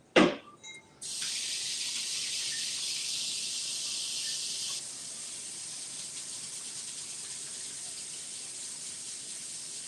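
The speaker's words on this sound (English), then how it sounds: "Let me wash my hands." A kitchen tap runs as hands are washed under it, a brief clatter first, then a steady close hiss of water that drops slightly in level midway and keeps flowing to the end.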